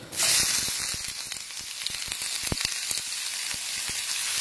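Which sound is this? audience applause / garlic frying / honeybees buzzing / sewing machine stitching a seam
garlic frying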